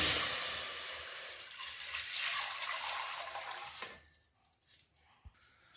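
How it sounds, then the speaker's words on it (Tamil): Water for cooking rice is poured in a strong continuous gush that eases off after a few seconds, followed by a few faint drips and small clinks in a quiet kitchen. "நம்ம பச்சரிசி அளந்த கப்பில் 5 கப் தண்ணி,"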